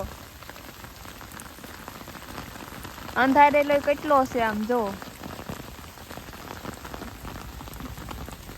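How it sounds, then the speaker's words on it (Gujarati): Heavy rain pours down steadily and close by, a dense, continuous hiss of drops on surfaces, with a brief burst of voices talking over it partway through. "બહુ વરસાદ આવે છે"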